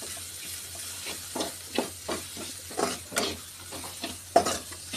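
Dry fish frying in oil in a pan, stirred with repeated scraping strokes over a steady close sizzle, no voices.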